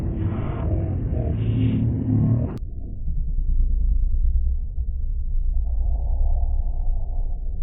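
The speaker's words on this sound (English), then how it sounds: "running out of second gear all over the rev limiter in the S2000" Honda S2000 autocross race car at Golden Sands Speedway running out of second gear against the rev limiter, a loud strained engine drone that drops abruptly midway into a steady lower rumble.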